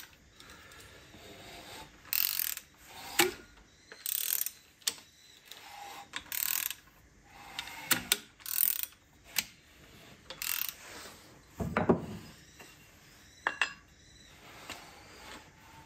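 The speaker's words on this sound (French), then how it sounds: "Donc je mets en place l'outil et puis ensuite je fais le serrage." Ratchet clicks in short bursts while a pulley-holding tool is tightened on a Mini Cooper S engine, close and fairly quiet, with sporadic metallic ticks and clunks between the bursts and no talk.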